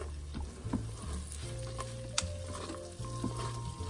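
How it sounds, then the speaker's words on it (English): Pork sizzles and fries in a pan with a steady soft hiss, foaming at the edges, with a few light scrapes and taps, under low background music. "you should be able to hear it sissing"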